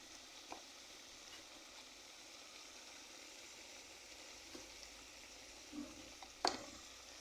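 Salt, turmeric and other spices frying and being stirred in a pan, a faint steady sizzle with a few soft scrapes and clinks of a spoon, quiet throughout and without speech.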